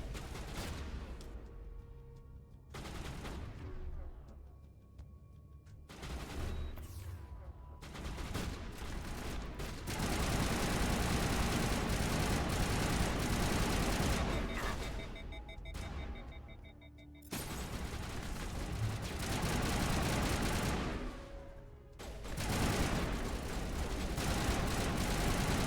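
Rapid video game gunfire from Mass Effect on Insanity difficulty, loud bursts and volleys continuing through most of the stretch with brief gaps and explosive booms, dense and close throughout.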